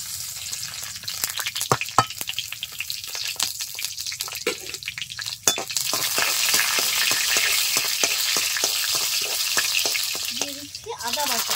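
Cumin seeds, bay leaves and dried red chillies sizzling in hot oil in a pan for a fish curry, a steady loud hiss that swells into strong frying, with crackles and stirring clatter, close up, and a voice briefly speaking near the end.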